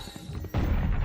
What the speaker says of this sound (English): Trap destroyed.